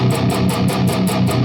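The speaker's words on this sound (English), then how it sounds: "where I mute, near the saddle, right above the saddle, it's going to sound like this" Electric guitar played with fast, even down-picking and palm-muted right above the saddle, giving a tight, chunky chug repeated about eight times in a steady rhythm, loud and close.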